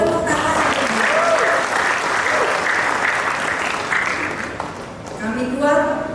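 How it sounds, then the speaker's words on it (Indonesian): An audience at a National Health Day ceremony in North Jakarta applauds steadily and loudly for several seconds, while a voice speaks over the clapping, rising again near the end. "Boleh tepuk tangan."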